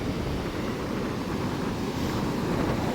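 Strong wind and heavy sea waves at a beach make a continuous, loud broadband roar that stays even for the whole stretch, with no talking over it.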